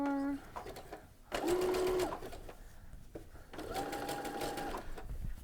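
A sewing machine stitches rickrack with a sequins foot in two quick buzzing bursts separated by short pauses, close and clear, with a faint voice in between.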